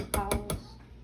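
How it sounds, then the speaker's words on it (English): A whisk is knocked against a mixing bowl three times in quick succession, sharp close clanks with a short ringing tail while making peach cobbler dough. "now I'm gonna empty out the whisk"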